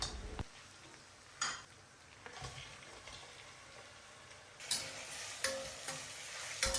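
Onions, ginger garlic paste and green chilies frying in a pan give a soft, steady sizzle, broken by several sharp clanks and scrapes of a utensil stirring against the pan.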